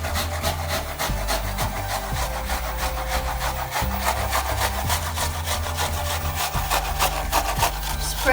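An apple is grated by hand on a grater for a Balkan apple pie, giving a loud, close rasping scrape in repeated rhythmic strokes with brief pauses between passes, and no talk.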